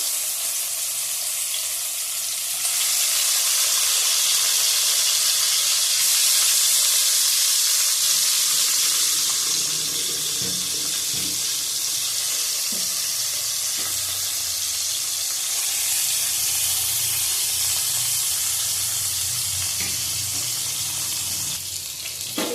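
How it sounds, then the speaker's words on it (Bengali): Hilsa fish pieces, heads and tails included, fry in oil in a kadai with a loud, continuous sizzling hiss that swells and eases. Occasional clatter of utensils comes through, and no one talks. "মাছ ভাজা হয়ে গেছে, তুলে নেব।"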